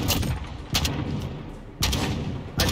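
Shotgun blasts from the video game Modern Warfare, four loud booming shots spaced roughly a second apart, each with a long rumbling tail.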